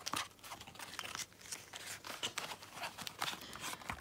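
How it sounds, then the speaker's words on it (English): The packaging of a new tarot card deck is torn open and its plastic wrap crinkled, giving a quick burst of close crinkling and tearing that runs for several seconds, fairly soft and with no talk. "So I'm going to open the deck very quickly"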